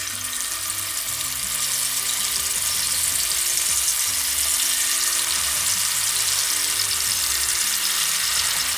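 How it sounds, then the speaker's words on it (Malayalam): Fish pieces fry in hot coconut oil for Kerala-style fish pickle, making a loud, continuous crackling sizzle that stays close and even throughout, with a low steady hum underneath. "എണ്ണ നന്നായിട്ട് ചൂടായി. ഇനി മീൻ അതിലേക്ക് ഇടുകയാണ്."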